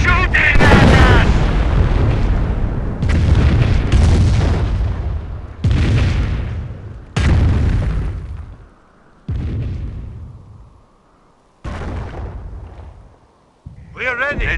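Loud bursts of gunfire and heavy explosions in the Company of Heroes battle at Falaise Pocket, with booming blasts that come in separate waves and die away, and shouted voices over the combat.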